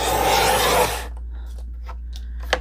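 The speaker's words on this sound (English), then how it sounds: "Now, of course, we trim off this edge here." Trimming the edge of a vintage 1900s book for a lap book: about one second of close, steady rasping cut, then quiet with a few small taps and rustles.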